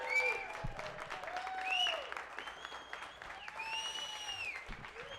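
A comedy club audience applauds at the end of a stand-up set, a continuous wash of clapping with whistles and cheers over it.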